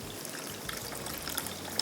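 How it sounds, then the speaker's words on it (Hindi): Water poured into a cooking pan while making roasted tomato chutney, a steady soft splash and trickle running evenly throughout at moderate close range. "ये गया पानी इसमें।"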